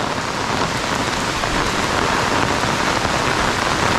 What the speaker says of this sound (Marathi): एवढा जोरात पाऊस आहे ना